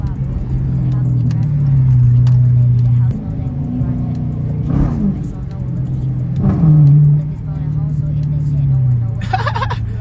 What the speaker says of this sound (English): Y'all hear how I'm making this bitch pop in the eco mode still